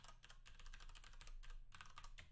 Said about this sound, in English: That sounds like it should be a satisfying keyboard.